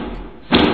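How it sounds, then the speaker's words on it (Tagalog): A hard knock or slam on an iron gate, one heavy thud arriving after a quiet stretch of low rumble, loud and close. "may narinig kaming 3 katok sa bakal na gate"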